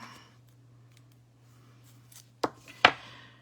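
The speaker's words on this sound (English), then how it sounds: "I just cut off that extra rubber" Two sharp scissor snips close up, cutting rubber, spaced a moment apart, after a quiet stretch with a low steady hum in the background.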